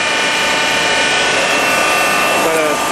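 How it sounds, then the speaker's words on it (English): An oil pump running on a wood-burning turbine stove/generator makes a steady, dense mechanical whine and whir with a faint ratcheting texture, loud and continuous throughout. "We've got the oil pump on."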